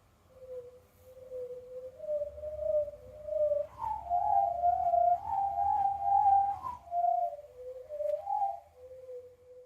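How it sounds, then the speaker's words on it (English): A swimming pool pump hose swung through the air gives a hollow, wavering whistle that rises and falls in pitch over several sweeps, fairly loud and close, with a low rumble beneath and no talking. "The sound you just heard was the sound of me swinging a hose from the pump of our swimming pool."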